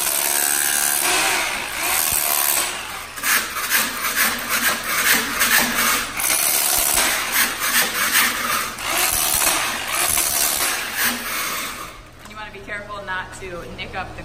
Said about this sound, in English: we're using a hammer drill and a floor scraper to go ahead and take this thin set self-leveling concrete layer up off the concrete.